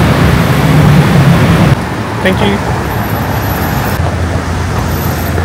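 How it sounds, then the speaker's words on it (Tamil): Steady road traffic in Bangkok on a weekday morning, a dense broadband roar of cars and buses that drops to a lighter rumble partway through, heard close by with a brief spoken word over it. "ஆனால் கொஞ்சம் டிராஃபிக் இருக்குது,"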